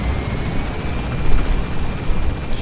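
A helicopter in Metal Gear Solid V roars loudly and close with a dense, continuous rotor and engine drone and no talk over it.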